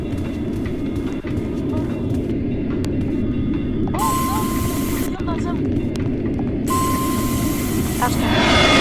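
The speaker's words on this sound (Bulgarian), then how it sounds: "Тя храната идва със самолет ли" An airplane delivering food in the survival game Land or Die gives off a loud, continuous engine drone, with sharper tones cutting in and out partway through.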